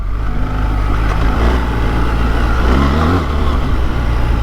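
A BMW R 1300 GS Trophy motorcycle engine spins up with a steady, loud mid-range drone that rises and holds, close by and unbroken by speech.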